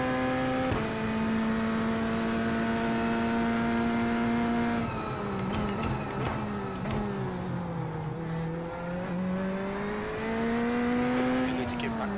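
Race cars lap a street circuit with hairpins in a sim racing game, one engine holding a steady whine that dips and climbs through gear changes and corners. Someone talks over it.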